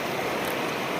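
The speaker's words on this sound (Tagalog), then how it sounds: "Medyo malakas yung agos." A strong river current flows over a sandy bed as a dense, steady wash of water noise. It is fairly close and lasts about a second with no voices.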